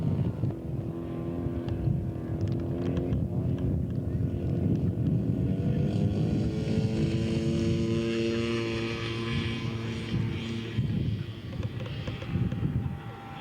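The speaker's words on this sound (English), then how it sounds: "Rick Swagger taxiing out for takeoff with the Tempest." The engine of a Hawker Tempest scale model aircraft drones steadily as it taxis out for takeoff at a scale aircraft show. The pitch shifts slowly as it moves, loud and continuous.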